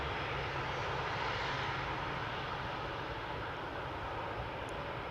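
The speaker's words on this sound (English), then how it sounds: "ITA Airways A320neo arriving from Rome, landing on center over there." An ITA Airways A320neo arrives from Rome to land at Amsterdam Schiphol, a steady, fairly loud jet engine roar sustained throughout with no voices.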